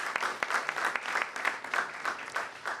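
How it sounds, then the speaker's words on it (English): A moderately quiet round of clapping from an audience at a youth voting discussion event, steady with distinct individual claps audible throughout. "A big round of applause for them as well"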